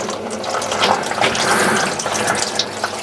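Engine oil drains from a BMW 330e hybrid into a drain pan during an oil service, a steady close pouring and splashing stream running unbroken and fairly loud with no talk.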